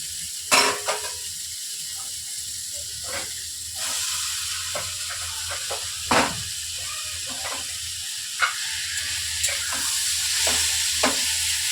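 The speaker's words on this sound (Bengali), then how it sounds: "ঝিঙ্গাটা প্রায় ভাজা হয়েই গেছে, এখন দিয়ে দেব আমি আলু।" Ridge gourd frying with potatoes in a pan, a steady close sizzle and hiss broken by repeated spatula scrapes and stirring taps at an uneven pace.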